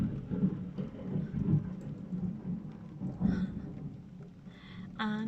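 Low thunder rolls after lightning, a deep, uneven rumble that swells and fades several times at moderate distance, with a brief voice near the end.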